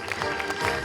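Audience applause at a theatre festival award ceremony in Cheboksary, following the announcement of an actress's prize, a short burst of steady clapping from a crowd, moderately loud and continuous.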